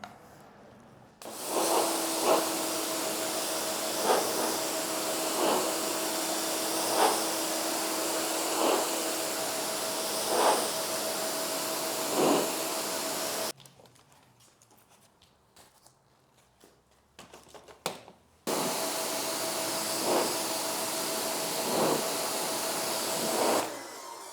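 An electric air blower roars steadily, blasting dust out of caravan window blinds and fly screens, cutting out briefly for a few seconds of quiet handling before starting again at full, close, loud volume.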